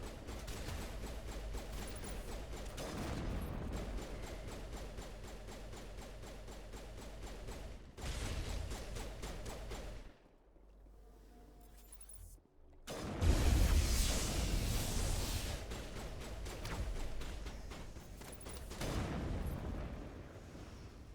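In Mass Effect 1 Legendary Edition on Virmire, rapid gunfire and heavy booming blasts roll on almost continuously in a crossfire battle, with a brief lull partway through before the loud shooting resumes.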